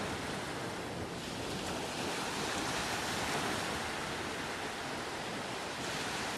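Steady ocean surf washes onto a Baja beach, a continuous broadband roar of breaking waves with no distinct individual crashes, fairly loud and close with a windy edge and no voices.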